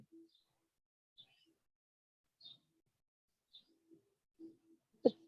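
Birds call faintly outdoors on a quiet, cool, cloudy evening: scattered high chirps and soft low coo-like notes come in sparse, separate bursts with long silences between them.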